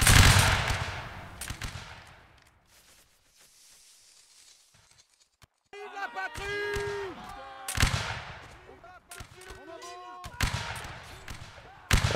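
Musket volley fire from line infantry in a Napoleonic Wars video game: a loud crackling burst of massed shots opens, then later sharp reports and echoes ring out between shouted commands and music-like game sounds.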